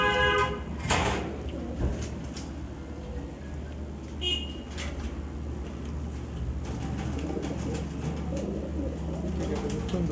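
Giribaj high-flyer pigeons in a shop, cooing and calling among sliding and knocking sounds against a constant room hum.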